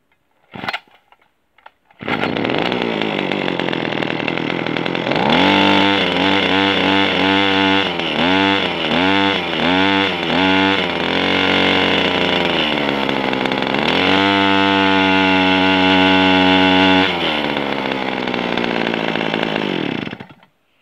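A Kawasaki KT17 small engine, smoking a little and hard to start, cranks briefly, then roars into a loud, close, raspy run with a rapid series of blips and revs before settling and cutting off, no talking.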